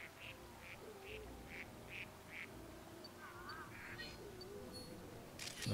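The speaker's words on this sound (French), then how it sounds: "j'ai réussi à avoir des petits canards" Little ducks in the New Pokémon Snap game let out a regular series of short quacks over a steady background of ambient music and nature sound, fairly faint and evenly spaced.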